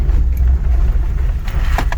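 A truck on Prinx HiCountry HM1 mud-terrain tires turns hard through a corner on a hard-packed dirt road, with a steady low engine and road rumble throughout and a little tire and gravel noise late in the turn.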